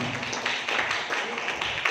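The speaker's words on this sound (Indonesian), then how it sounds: "terima kasih, tepuk tangan" Applause from a small audience at a marketing plan presentation during a training session: a brief burst of scattered, fairly faint hand clapping with a voice speaking over it.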